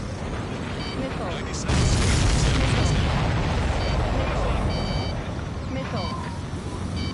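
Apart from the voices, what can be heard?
missile explosion hitting supply ship in Ace Combat video game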